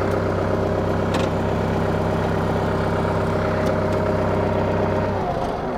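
A Kubota M5660 tractor diesel engine with 1,500 hours idling just after starting, a loud, steady, close chugging hum that shifts slightly near the end.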